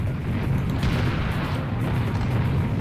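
Dense, continuous rumbling bursts of automatic gunfire and booms in Serious Sam: The First Encounter HD, loud and steady throughout, with no clear gaps.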